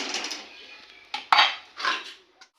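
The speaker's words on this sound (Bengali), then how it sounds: "কড়াইটা বসিয়ে দিলাম" A metal wok is set down on the stove with a couple of close, sharp clanks and scrapes, then a short rattle before it settles.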